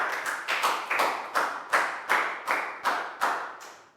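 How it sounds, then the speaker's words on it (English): A classroom of Year 4 children claps for a classmate, heard as about ten short, sharp bursts of hand claps in a steady, slightly ragged rhythm, each swelling and fading, close and moderately loud with no talking. "a big round of applause for Lakgao"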